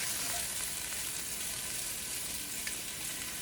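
Italian sausage browning in a pot for a one-pot pasta, giving a steady, close, even sizzle and crackle with no voices.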